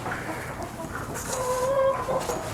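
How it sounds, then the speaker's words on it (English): Chickens cluck and call in a barn shared with pigs, several birds near and moderately loud, with short tonal clucks and squawks over a steady background of farmyard noise. "Pigs and the chickens all hanging out together."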